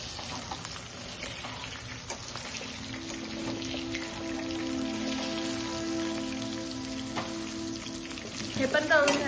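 Mushrooms coated in cornflour and a little salt frying in hot oil, giving a steady, close crackling sizzle that runs throughout and grows a little louder near the end.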